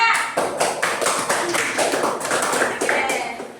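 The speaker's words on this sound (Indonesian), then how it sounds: "tepuk tangannya." A classroom group applauds in a short burst of close, sharp hand claps that start together, stay fairly dense for a few seconds and then thin out as a voice speaks over them.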